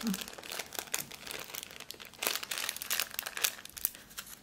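A crinkly plastic package of Halloween paper cutouts is opened with loud, close crackling and crumpling that runs throughout, plus a few brief tearing sounds, while someone talks now and then.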